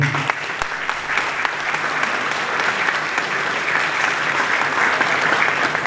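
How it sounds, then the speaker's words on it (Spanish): Sustained audience applause for a history teacher at a talk on the Malvinas, steady crowd clapping for several seconds with a faint murmur of voices in the room. "Un aplauso para ella."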